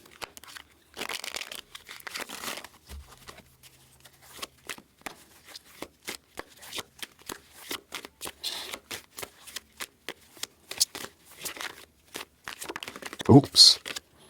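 Tarot cards are shuffled by hand in a quiet room, a steady run of soft, rapid riffling and rustling bursts with brief pauses, growing louder near the end.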